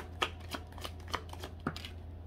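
Tarot cards being shuffled for a love reading, a soft riffling with a few sharper card snaps spaced through the short stretch, close and fairly quiet with no voices.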